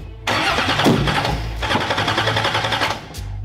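A 1957 Chevy engine cranks hard, a loud rhythmic chugging of the starter turning the motor over in two long bursts without catching, close by.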